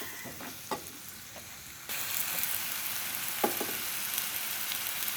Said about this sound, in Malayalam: അമ്പഴങ്ങയും ചേർത്ത് മെല്ലെ ഒന്ന് ഇളക്കി യോജിപ്പിക്കണം